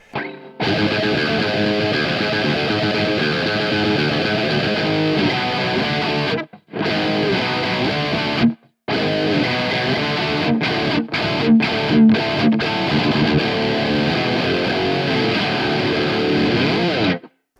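Heavily distorted electric guitar through a capture of a Mesa SV20H amp modded by Headfirst Amplification, riffing loudly and steadily, with a couple of brief drop-outs and sharp stops near the middle.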